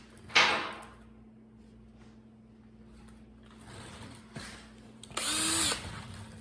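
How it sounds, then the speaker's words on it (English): A power drill whirs briefly near the end while boring a pilot hole through a 3/16 hole for hidden tailgate latches on a 1978 GMC Sierra Grande stepside, after a sharp tap and some quiet handling noises. "use this 3/16 hole to drill a pilot hole"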